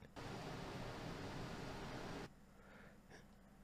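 A steady, broadband air-conditioner hum fills the first two seconds, then drops sharply to a much quieter background.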